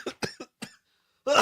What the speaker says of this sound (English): turned his head and coughed